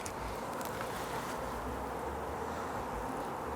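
Honeybees hum in a low, steady swarm around a porch hive being removed, the buzzing constant and close throughout with faint rustling.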